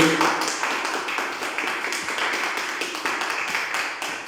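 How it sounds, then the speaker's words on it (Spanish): Audience at a literature talk at Plaza Edison applauding themselves, a steady patter of many hands clapping at close range, with a brief voice at the start. "aplaudan a ustedes mismos, por favor"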